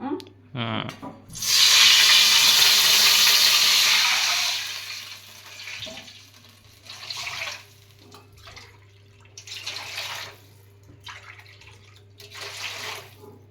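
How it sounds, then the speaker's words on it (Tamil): Measured water is poured from a small tumbler into a wok-style kadai while making semolina kesari, giving a loud steady splash for a few seconds followed by shorter bursts of pouring and a faint background hum. "நம்ம தண்ணி அளந்ததில் இந்த அப்படியே இந்த வடச்சட்டியில் ஊற்றிடலாம்"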